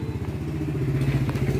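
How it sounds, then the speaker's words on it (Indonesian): A fuel-injected motorcycle with a starting fault is being cranked, giving a brief close, rapid low chugging from the starter and engine that holds steady and grows slightly louder. "Lalu kita coba starter"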